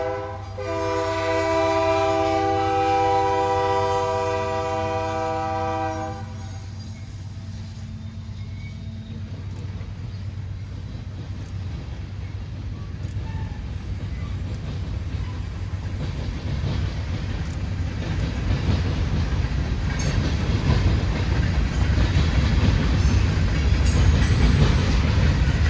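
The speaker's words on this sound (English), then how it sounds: "CSX I-132 with more UP power rolls north on the Pemberville sub" CSX freight train I-132, led by Union Pacific locomotives, rolls north on the Pemberville subdivision at Fostoria, Ohio. A loud sustained multi-tone horn blares for about six seconds, then the heavy rumble of engines and rolling cars builds steadily.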